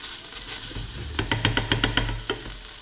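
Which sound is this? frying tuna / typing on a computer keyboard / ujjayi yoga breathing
frying tuna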